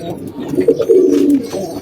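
Pigeons newly paired in a loft coo close by in a rolling, throaty burst that swells in the middle and then eases. No one speaks.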